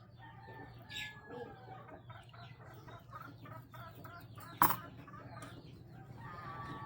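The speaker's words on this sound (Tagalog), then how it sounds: "Ang iingay nila pati yung mga manok." Scattered clucking from several chickens, fairly faint and distant, with one sharp louder call partway through over a low background hum.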